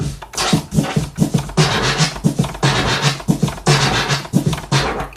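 Turntable scratches in the M-flare style cut rhythmically over a looped drum sample with a kick and snare, sounding loud, close and continuous, with quick stuttering bursts throughout.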